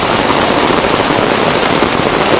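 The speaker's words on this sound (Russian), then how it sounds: "хотя дождик уже заканчивается" Steady rain falls outdoors on a rural plot with a roofed shelter where animals stand, a dense continuous patter of drops on surfaces at a constant level, with no talk.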